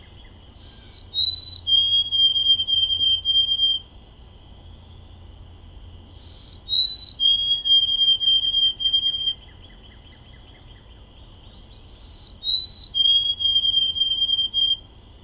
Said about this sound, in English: when you hear a white-throated sparrow, it has a very kind of pure whistle